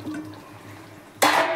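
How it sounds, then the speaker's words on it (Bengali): Stingray fish pieces drop into a pot of simmering potato curry, a sudden loud wet splash and sizzle that follows a quiet, low hum in the kitchen. "মাছগুলো দিয়ে দিলাম।"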